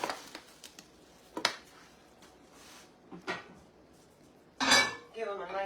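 Grits are stirred in a pot with a spoon, giving scattered scrapes and clinks of metal against the pan, a few louder knocks, and quiet gaps between.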